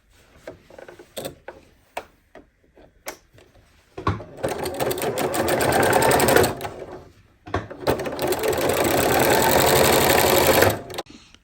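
A sewing machine top stitching a denim quilt block runs in two long, steady bursts of rapid stitching, each several seconds, after a scatter of sharp mechanical clicks and taps.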